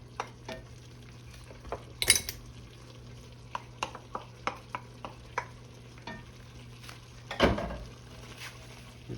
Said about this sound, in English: Now we're gonna add our celery and onions to this.